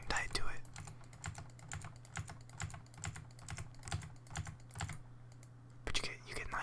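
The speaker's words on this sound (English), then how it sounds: "nice keyboard sounds" Computer keyboard clicking during a League of Legends match, with close, crisp key taps in quick uneven bursts and brief pauses, under soft whispered speech.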